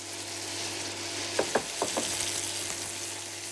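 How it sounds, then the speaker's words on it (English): Steady sizzling of onions frying in a pan, with a few clanking stirs partway through. "uses the cider to cool the frying onions"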